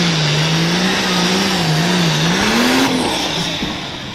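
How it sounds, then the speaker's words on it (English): A pulling tractor roars down the dragway track at a Chapel Hill pull, its loud engine droning and wavering in pitch before the sound thins and fades slightly near the end. "watch the left front tire of this tractor as it goes down the track"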